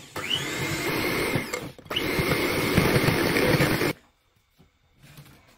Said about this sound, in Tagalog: pwede po natin gamitin na ngayon ang ating mixer